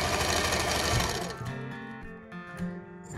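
A domestic sewing machine stitches along a fabric tie in a fast, steady mechanical rattle that slows and stutters toward the end in short bursts, heard close up and on its own.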